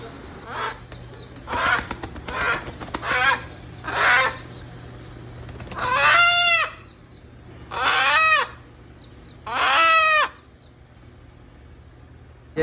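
At a rural family gathering, a rooster crows three times in loud, drawn-out calls, preceded by a series of shorter bird calls and clucks over a low background hum.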